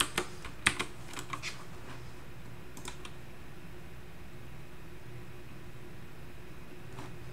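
Typing on a computer keyboard while coding, a quick cluster of sharp key clicks at the start that thins out into sparse taps over faint room hiss.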